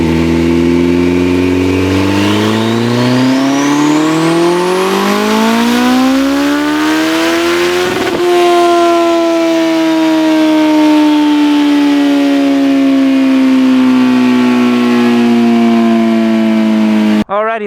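A turbocharged Suzuki Hayabusa motorcycle engine on a dyno revs loudly and up close, climbing steadily in a long sweep, then dropping slightly and holding a high sustained pitch before cutting off abruptly.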